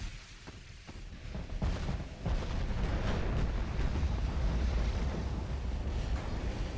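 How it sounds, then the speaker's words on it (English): Warship guns fire in Ultimate Admiral: Dreadnoughts, a naval battle game, with deep booming blasts that build into a dense, continuous roar of overlapping gunfire and rumble. "now my little guns are firing"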